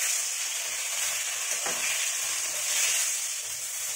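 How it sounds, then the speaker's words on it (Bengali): Bhola fish frying in a pan gives a steady, dense sizzle that runs unbroken throughout, with a brief scrape of stirring near the middle and no voices. "ভোলা মাছ তো খুব সাবধানে ভাজতে হয়"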